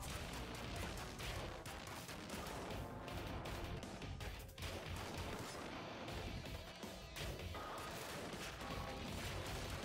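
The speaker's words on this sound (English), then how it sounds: "even if you dodge that, he still makes giant explosions everywhere" Giant explosions in the video game ScourgeBringer, a dense, loud barrage of booming blasts and crashes that continues without break throughout, with no talk over it.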